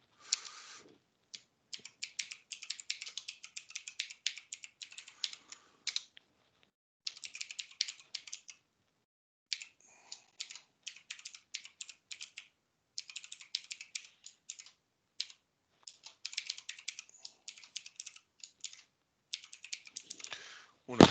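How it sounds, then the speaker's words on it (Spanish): Typing on a new computer keyboard: rapid bursts of crisp key clicks in irregular runs, broken by short pauses, close and clear over about twenty seconds. "Me pierdo las teclas con el teclado nuevo."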